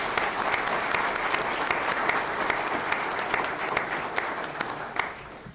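A city council meeting audience gives sustained applause honoring baseball players, steady dense clapping throughout with no talking over it.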